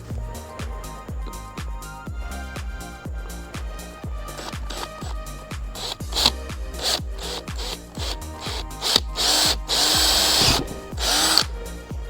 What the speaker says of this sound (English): So let's go ahead and drill a hole and put this in